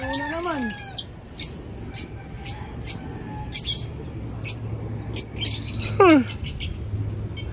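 Racing pigeons at a loft give repeated short chirps and squawks, with a couple of rising calls, close by over a low background hum.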